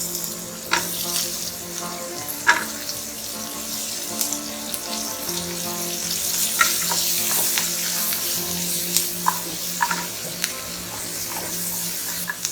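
Onions sautéing in hot butter and oil with garlic pods, a steady close sizzle broken by occasional clinks and scrapes of a spoon stirring the pan.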